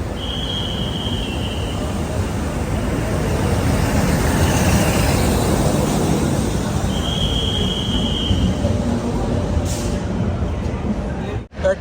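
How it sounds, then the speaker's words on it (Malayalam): Train pulling into Srinagar railway station platform in the Kashmir Valley, a steady loud rumble of wheels and carriages with two brief high squeals, heard alone. "ട്രെയിൻ വന്നിരിക്കുകയാണ്"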